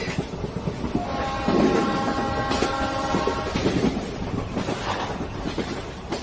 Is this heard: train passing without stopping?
yes